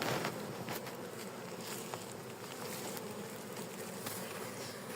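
Honey bees hum and buzz around an opened beehive on a hot day, a steady dense drone of many insects close by, with no voices.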